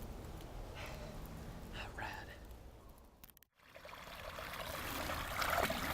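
Small waterfall stream trickling and pouring steadily outdoors in a park while a knife is rinsed in it, a soft continuous wash with a brief dropout midway and faint voices in the background.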